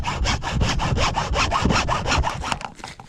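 Steady back-and-forth sawing through an irrigator hose, close and loud, with quick regular strokes that slow and stop near the end.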